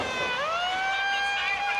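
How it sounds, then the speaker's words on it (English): A single wailing siren tone at a wrestling event sweeps upward and then holds a steady pitch, fairly close and loud with rich overtones. "but now with that siren"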